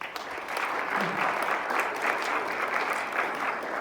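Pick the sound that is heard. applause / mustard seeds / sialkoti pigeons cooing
applause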